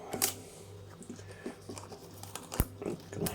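Film advance lever winding on an Agfa Super Silette 35mm rangefinder camera, heard as soft close ratcheting clicks and small mechanical scrapes with one sharper click near the end, quiet and with no voice.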